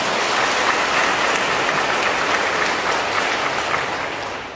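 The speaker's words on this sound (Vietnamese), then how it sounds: "Xin cộng đoàn cho chúc mừng cha xứ một tràng pháo tay thật lớn." A church congregation claps during a thanksgiving Mass for a priest's tenth ordination anniversary, broad sustained applause that sounds almost like heavy rain, holding steady before tapering off at the end.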